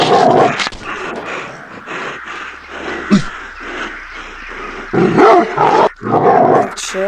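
A dog barks repeatedly in the zombie game Into the Dead, sharp loud yelps and growly barks coming in irregular bursts with short pauses between them, and no talking over them.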